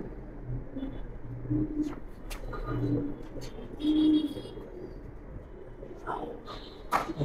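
High flyer pigeons coo in soft repeated low murmurs, close by, over light background noise with a few scattered clicks and faint voices.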